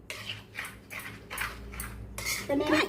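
A spoon is worked through milk powder and milk in a bowl, making rhythmic scraping and clinking strokes, close and moderately loud, with a slightly busier clatter at the end.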